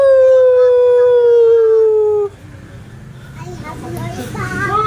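Dogs howl loudly and close by in a long, sustained, slightly falling wail that lasts about two seconds. It is followed by quieter children's voices and chatter outdoors.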